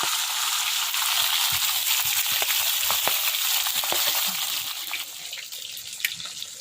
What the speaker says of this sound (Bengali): এখন মাছটা দিয়ে দিচ্ছি। ভেজে নেব।